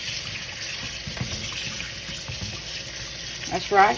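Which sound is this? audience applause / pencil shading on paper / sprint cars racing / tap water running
tap water running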